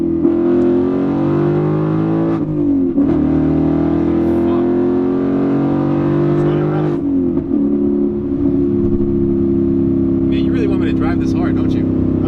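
A 2019 Ford Mustang GT accelerating hard in second gear, its engine note loud and close as it climbs steadily in pitch, with a brief dip around a shift and faint talk inside the cabin.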